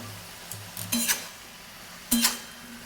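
Fish head and ash gourd frying in a pan are stirred in two main bursts, with scraping and sizzling close by and quiet stretches between them.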